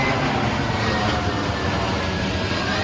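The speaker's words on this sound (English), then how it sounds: "Look at these aeroplanes, guys, how close we are." Low-flying airliners near Heathrow airport roar overhead in a steady, loud, broad engine rumble that fills the whole stretch, heard outdoors beside a parked BMW 330 Ci ClubSport.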